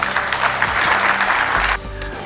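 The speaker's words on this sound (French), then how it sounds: "Est-ce qu'on peut applaudir?" An audience at a Red Cross advocacy and diploma ceremony in the DRC claps steadily and fairly loudly, then the applause cuts off abruptly near the end, leaving a low hum.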